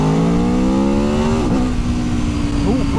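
A 2021 Aprilia Tuono V4 motorcycle engine revs hard under acceleration, its pitch climbing steadily, then dipping briefly with a gear change before pulling again. It is loud and close, over steady wind and road noise.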